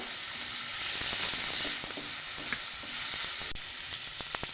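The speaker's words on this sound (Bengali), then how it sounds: "তো এবার ঢাকা দিয়ে আমি সবজিটাকে একটু ভাজা ভাজা করে নেব" Vegetables fry in a pan with a dense, constant close sizzle and hiss, with soft stirring knocks and scrapes now and then and no voices.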